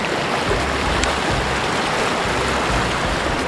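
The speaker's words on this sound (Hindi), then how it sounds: "ये है नदी कोसी की" The Kosi river flowing, a steady close rush of moving water that fills the whole clip, with faint low rumbling underneath and no talk.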